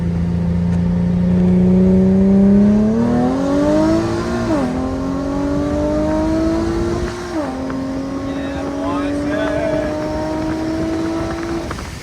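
Infiniti G37 fitted with welded test pipes in place of the Y-pipe section, revving with rising and falling engine pitch across several throttle blips, loud and close throughout with no talk over it.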